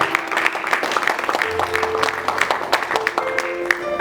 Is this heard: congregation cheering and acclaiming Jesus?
yes